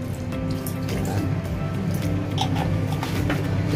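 Silver Swan soy sauce poured into a pan while cooking Ilocano-style igado, a steady close liquid trickle and wet splashing running continuously.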